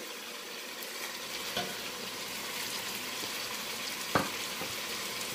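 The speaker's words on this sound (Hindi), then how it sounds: "तो अब इसमें मैं सारे खड़े मसाले डालूंगी।" Whole spices (cumin, cinnamon, mace and black pepper) sizzling in hot oil for chicken karahi, with a soft, steady frying hiss and two brief clicks from a utensil.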